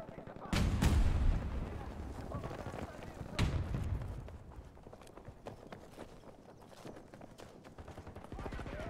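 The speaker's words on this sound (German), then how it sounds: "Werfe Granate!" Grenade explosion in Battlefield 2042: heavy booms land in quick succession, followed by another blast a few seconds later, amid scattered gunfire and battlefield clatter, with voices in the background.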